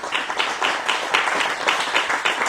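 Congregation applause for Christ during a Spanish-language church sermon, a steady dense wash of many hands clapping at once, loud and close, with no talk over it.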